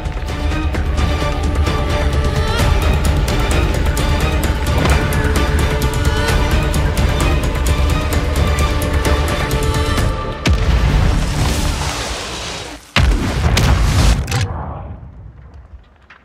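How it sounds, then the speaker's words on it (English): Mortar strike explosions in Call of Duty MW3, a free-for-all match, roar as a dense, loud barrage over a steady game music bed, followed by a sharp final blast that decays into quiet. "Mortar strike inbound."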